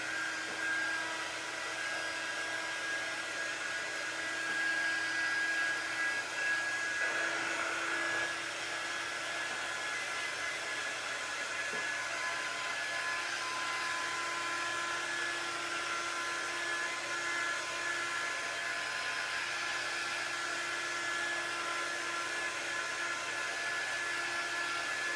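A hair dryer blows steadily on paint drying on a tea towel, a constant close whirring hum that runs without a break and with no talking over it.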